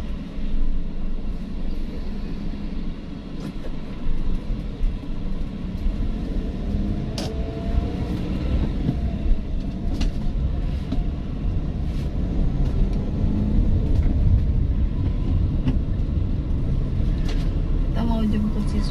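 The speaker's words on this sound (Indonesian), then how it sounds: "kemudian saya masukin gigi satu." A manual car is put into first gear and pulls away, giving a low engine rumble that builds gradually under continuous talking inside the cabin.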